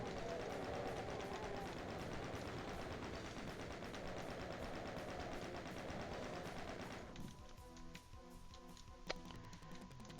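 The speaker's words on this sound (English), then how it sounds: "I'm actually going to swap over to the chain gun for this next bit." Chain gun fire in the classic Doom video game, a fast continuous rattle of shots that goes on for several seconds before giving way to quieter game sounds and a single sharp hit, faint overall.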